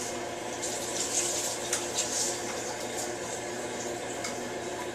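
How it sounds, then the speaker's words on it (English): Tap water runs steadily into a kitchen sink while hands are washed in the stream, a close, continuous splashing wash with no talking. "Right here, wash my hands."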